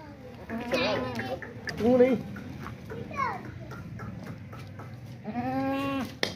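Goat of a high-quality breed, a pregnant doe at a livestock market, bleating in repeated calls with someone talking over and between them nearby.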